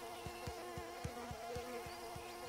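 Buzzing insects in a Bluey video game scene, heard as a steady droning whine with a regular pulsing rhythm underneath, moderately loud and continuous with no talking.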